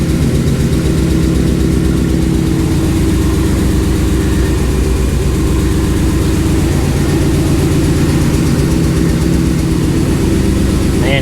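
A HEMI-swapped Dodge RAM 1500 pickup engine runs steadily at a loud idle, a deep continuous rumble with layered low harmonics holding throughout, no talk over it.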